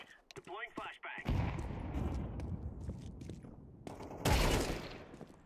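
A flashbang grenade goes off in Counter-Strike, a sharp burst followed by a loud, sustained roar with a second strong blast near the end, preceded by a brief voice line.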